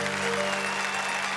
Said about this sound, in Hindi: एक बार हम जोरदार तालियां बजाएं